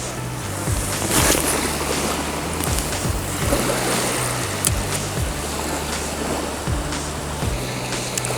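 Steady rushing surf and wind at a river mouth during surf casting, a continuous broad wash of waves with gusting wind buffeting the microphone, no voices.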